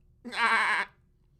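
A single wavering, nasal bleat, close and clear, lasting just over half a second, with a voice imitating a sheep.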